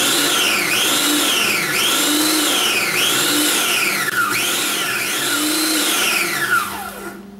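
A food processor pulses to mix ingredients with a rising and falling motor whine in about five even bursts, close and loud. It ends in a winding-down spin and there is no talking.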